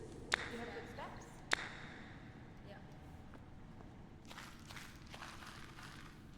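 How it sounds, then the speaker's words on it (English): Footsteps sound faintly, with two sharp knocks early and then soft scuffs under a low steady background hum, and no voices in the stretch. "I just heard footsteps."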